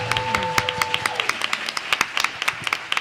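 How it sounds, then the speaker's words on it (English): Audience at a school board of education meeting giving a round of applause, a sparse scattering of distinct hand claps from a modest group in a room, fairly close and lively. "let's give Caden one more round of applause"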